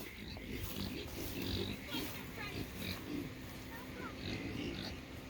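KuneKune pigs grunt in low, scattered bursts on a farm, mixed with people talking nearby and faint background farm noise.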